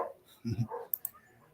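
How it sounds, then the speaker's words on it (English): Dogs at a home bark in the background, giving a short burst of low barks followed by a couple of brief yips, faint and set against quiet room tone. "So if you hear barking in the background, those are my dogs."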